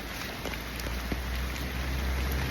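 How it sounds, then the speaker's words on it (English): Rain coming down over park ground where a lot of water has pooled, a steady close broadband hiss with a few soft drop taps scattered through it. "because it's raining a lot of water has collected on this space"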